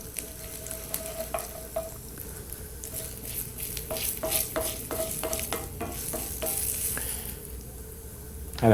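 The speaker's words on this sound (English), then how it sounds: "fry up our cumin seeds. Saute our cumin seeds until they go a golden brown." Cumin seeds fry in hot ghee in a pot for an Indian feast, giving a steady close sizzle with repeated scraping stir strokes and clinks from a spoon, and no talk.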